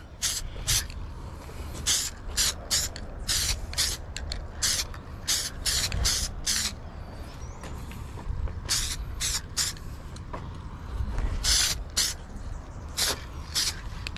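Repeated short bursts of a spray can or spray gun laying a light coat of paint on taped-off interior parts from an AWD turbo Honda CRX, each hiss close and loud over a steady low background rumble.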